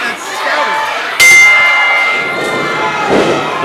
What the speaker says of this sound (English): The bell sounds, and here we go.